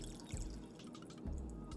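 Pickle juice is poured from a jar into a plastic bag, a soft, faint liquid splash and trickle lasting under two seconds with a couple of brief gurgling bursts.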